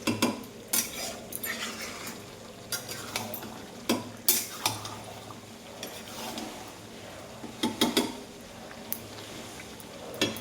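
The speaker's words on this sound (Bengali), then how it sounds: "আলুটা দিয়ে এটা ভালো করে আমি মিশিয়ে দেবো টমেটোর সাথে।" Spoon stirring fried potatoes together with tomato in a pan while cooking chicken liver and stomach kosha, giving repeated scraping clinks against the pan over a low, steady background hiss.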